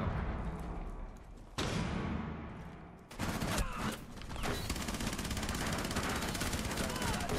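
Dense automatic gunfire in Rainbow Six Siege, a sustained rattle broken by a brief pause before heavy fire resumes, loud and continuous throughout.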